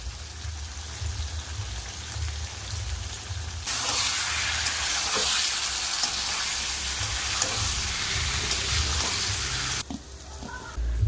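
Spiced egg and cauliflower curry frying in a pan, a quiet low bubbling that bursts into loud continuous sizzling with stirring for several seconds, then drops back to a soft simmer.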